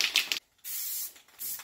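Super Acid Self Etching Primer hisses from an aerosol can onto a front bumper for a 3rd gen Toyota 4Runner, in close short bursts: a quick double spray, a brief pause, then a longer steady spray and a final short burst.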